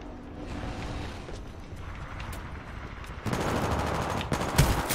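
Video-game gunfire from grunts shooting: scattered shots at first, then a dense, loud burst of rapid automatic fire in the second half, with mechanical clanks mixed in.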